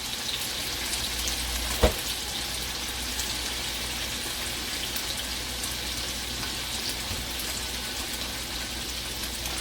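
Minced garlic sizzles in a hot pan for chicken fried rice, a steady close frying hiss that holds evenly throughout, with one brief clink of a utensil early on.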